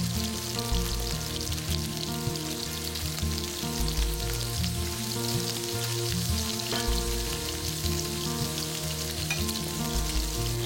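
Red mullet fillets sizzling in a hot pan, a steady dense frying crackle and spatter that fills the whole stretch without talk.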